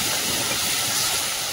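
Ginger-garlic paste with finely chopped onion and tomato sautés in a pan, giving a steady, close, loud sizzling hiss that holds without a break through the whole short stretch.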